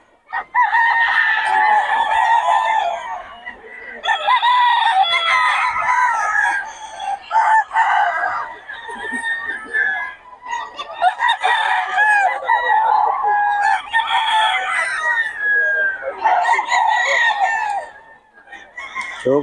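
Gamefowl chickens crow and cluck nearby, long loud crows overlapping in a busy yard, with occasional faint voices in the background.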